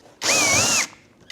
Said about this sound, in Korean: 그 다음 나사 3개를 분해합니다.